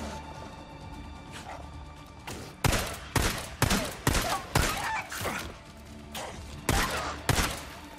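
Gunfire in the video game Days Gone: around ten sharp, loud shots fired one after another at an uneven pace, standing out over a low game ambience with no talking.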